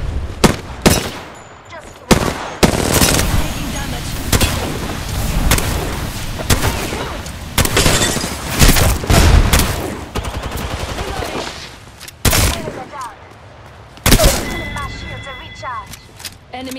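Rapid gunfire in the battle royale shooter Apex Legends, with dense bursts of automatic shots and sharp single cracks across the whole stretch, broken by brief pauses, with voice lines heard between the bursts.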